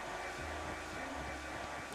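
Steady, loud whooshing drone of a hair dryer blowing continuously in the video game The Spirit and the Mouse, with a low rumbling undertone shifting slightly in pitch.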